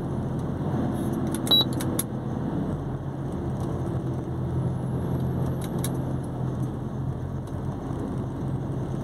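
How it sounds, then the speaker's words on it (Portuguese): A heavy truck's engine drones steadily from inside the cab while climbing the Serra do Cafezal, a constant low rumble with a couple of light rattling clinks early on. "já vai pedir a nona marcha porque ele já está passando de 1500 giro"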